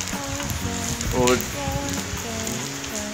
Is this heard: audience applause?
no